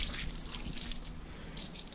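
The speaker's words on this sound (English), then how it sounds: "So we just turn the cloths over and then pour the second jug full" A jug of water pours over damp cleaning cloths in a milking parlour. The trickle and splash are soft and close, dripping unevenly for a couple of seconds with no voices.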